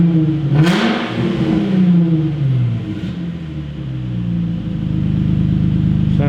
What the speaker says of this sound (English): This is the car without the exhaust on at all,